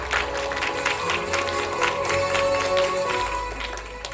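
A crowd claps steadily at a local community lecture event in Nowon as a resident speaker is welcomed to the stage. The applause is a dense, even patter with faint tones in the background.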